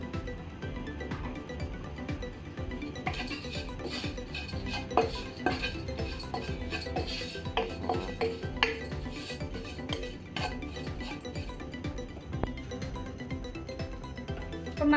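Masala for green apple pickle mixed in a pan, quiet scraping and clinking of a spoon against metal in irregular strokes, close and faint, with no sizzle.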